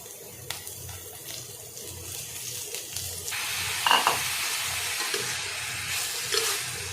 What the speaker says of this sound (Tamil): இப்போ நம்ம அலசி வச்சுருக்கிற கோஸ் இதோடு சேர்த்துக்கலாம்